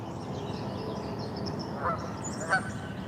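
Geese honk a couple of times at a distance by the water on a rainy day, two short faint calls over steady rain-like background noise.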